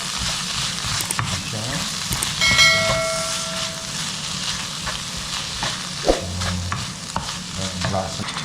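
Mixed vegetables and tuna stir-fried in a pan, with a steady loud sizzle and continuous scraping and stirring strokes close up, plus a brief faint beep partway through.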